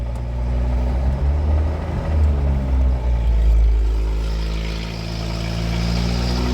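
Wrecked 1988 Ford Ranger pickup engine running steadily at idle, a loud close low rumble with a slight rise and fall in revs and no talking.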